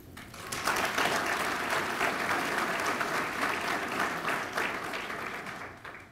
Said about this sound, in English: please, as they stand up, do not hold your applause